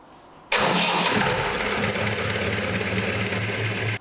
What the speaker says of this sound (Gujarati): હવે આપણે ફરીથી એન્જિનને ચાલુ કરી આઇડલ સ્થિતિમાં ચાલુ રાખીશું